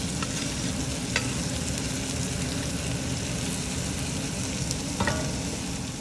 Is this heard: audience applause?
no